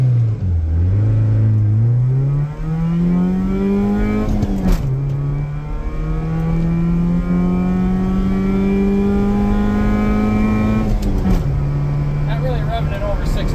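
A 1987 Honda Civic Wagovan RT4WD engine revs loudly through a full acceleration pull on a slight downhill, pitch climbing steadily with two brief dips at gear changes, heard from inside the car alongside a voice.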